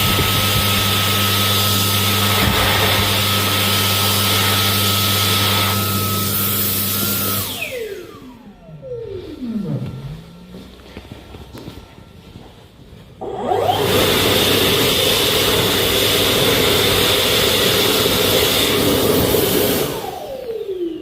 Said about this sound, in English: The Dyson Airblade AB03 was more powerful.